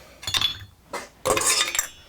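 Ice clinks and rattles inside cocktail glasses being chilled while a classic gimlet is made, in two close, bright bursts separated by a brief pause.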